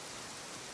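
Steady rain falling in a continuous soft hiss, even and unbroken, with no voices over it.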